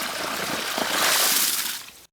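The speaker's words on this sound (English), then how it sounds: "On this other pipe, the water will flow the same, in the same velocity" Water flows through a gravity-fed pipe feeding drip lines on a fish pond farm in Nyeri, Kenya, making a steady, close hissing rush that swells briefly and then cuts off.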